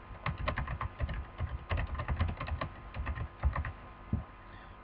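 Quick, uneven bursts of keystrokes on a computer keyboard, typed close by in a quiet room with brief pauses between words, ending with a single louder tap.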